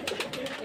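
Pigeons coo in a quick series of soft, throaty calls at a pigeon farm, a few close birds heard briefly and clearly.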